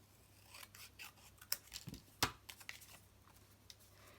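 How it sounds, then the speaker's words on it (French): Scissors cut a sheet of polished pink stone paper in two, making quiet crisp snips and rasping slides with one sharper close cut in the middle, very faint over a low hum. "je vais la couper en deux"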